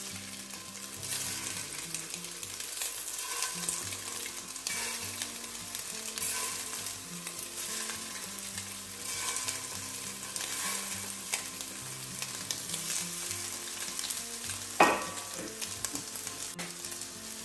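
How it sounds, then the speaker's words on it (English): Meatballs for Italian spaghetti and tomato sauce brown in a frying pan with a steady, moderate sizzle, broken by occasional clinks and shifts as they are placed and moved, with no talking. "And we're just going to start browning our meatballs."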